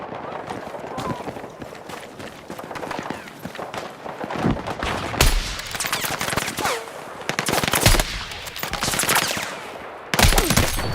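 Enemy machine gun fire rattles in Battlefield 6, repeated rapid bursts at moderate distance amid other battlefield noise, with players talking over it.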